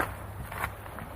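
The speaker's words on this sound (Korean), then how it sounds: "발자국 소리밖에 안 들리죠." Footsteps crunch over stones on a tidal shore as the tide comes in, a steady walking rhythm heard close under faint wind and water noise.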